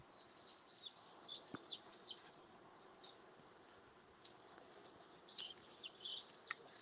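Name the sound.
birds singing in a quiet outdoor place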